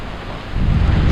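Heavy rain roars in a dense, steady wash that swells into a deeper rumble halfway through the short burst, loud and continuous with no voices.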